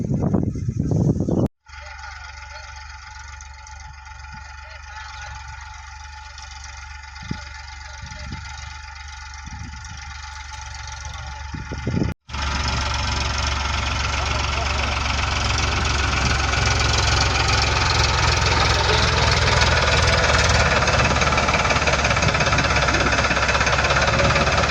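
A tractor engine runs steadily in a farm field, brought in to spread material, with a constant knocking diesel rumble that grows louder and broader in the second half, close by and with no talk over it.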